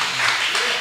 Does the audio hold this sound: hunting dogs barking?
no